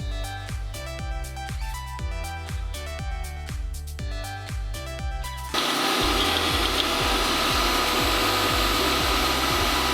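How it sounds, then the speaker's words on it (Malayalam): A kitchen mixer grinder churns hair mask ingredients in its jar. It starts after a stretch of rhythmic knocking and runs as a loud, steady whirring roar to the end. "അപ്പം നമുക്കിതൊന്ന് പെട്ടെന്ന് മിക്സിയുടെ ജാറിലിട്ടിട്ടുണ്ട്"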